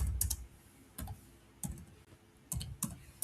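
Typing on a computer keyboard nearby in short bursts of clicking keystrokes separated by brief pauses, moderately quiet and with no voices.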